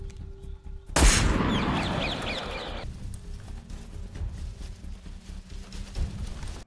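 A single sharp gunshot cracks out in a film scene, followed by a few seconds of ringing echo and rumbling, then quieter background movement and a faint later thump.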